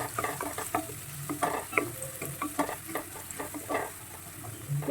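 Onion sautés in a pan for soya chukka, a close, crackling sizzle broken by repeated scraping strokes of a spoon stirring it in an irregular rhythm.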